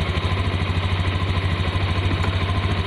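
New 2021 Honda Scoopy scooter idling close by, a steady low engine rumble with a slight rise in revs across the short stretch, no voices.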